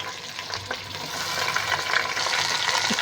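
About 1.5 kg of chicken fries with golden-browned onions in a pan, giving a steady, loud, dense sizzle with some stirring, heard up close with no talk.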